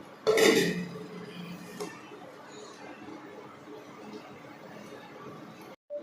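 A metal lid clinks lightly onto a cooking pot of mutton, one sharp close knock followed by faint kitchen clatter and a quiet voice.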